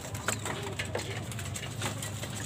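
Racing pigeons coo softly and steadily in a loft during recovery and conditioning feeding, their low murmuring continuous under a constant hum of background noise.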